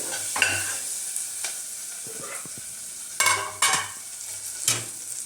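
Coriander leaves frying in hot oil give off intermittent sizzling bursts alongside stirring scrapes, the hiss flaring loud a few times and then settling back to a quieter background crackle.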